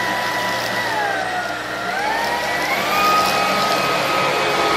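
Cordless stick vacuum cleaner running steadily, a loud close motor whine with a high tone that drifts slightly in pitch, continuous throughout with no speech.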